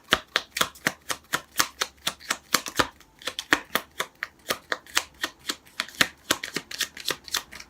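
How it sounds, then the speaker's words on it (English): Tarot cards shuffled in quick, crisp riffling bursts, a steady run of sharp papery slaps repeating about twice a second, close and clear with no talking. "So while I'm shuffling"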